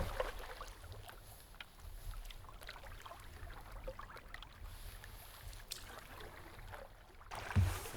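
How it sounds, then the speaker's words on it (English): A canoe being paddled back across a lake into the wind, soft water swishes and paddle strokes under steady breezy rumble, faint and close, no voices. "We're paddling back to it now, paddling against the wind."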